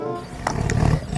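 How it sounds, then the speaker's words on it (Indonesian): A tiger roars in a short, loud, gruff burst, close and alone, in a children's animal cartoon. "Wadidaw, ada seekor harimau."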